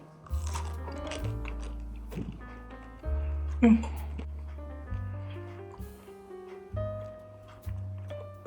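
Biting and chewing a soft homemade German pretzel with crunchy tips, close-up crunches and chewing repeating in bursts, with short pauses between bites.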